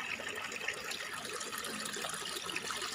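River water flows in a steady, soft, continuous rush, heard alone at a moderate distance without talking.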